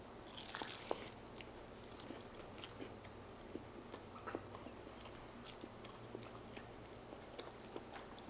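Someone eating a chicken protein crunch wrap, with close, quiet crunchy bites and chewing that repeat irregularly over a steady low background hum.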